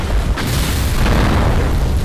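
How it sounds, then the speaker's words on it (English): A building blows up in Resident Evil 6, a dense, sustained roaring blast of debris and fire that fills the whole moment loudly, with no talk over it. "And now the rest of the building blows up for no reason."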